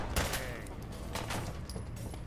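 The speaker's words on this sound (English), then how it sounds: "This pistol is horrible." Pistol gunfire in the video game Fallout 4: several sharp shots crack in quick, uneven succession, moderately loud over a faint game background.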